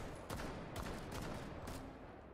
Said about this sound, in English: I only shot seven bullets with Twitch, and I get an assist?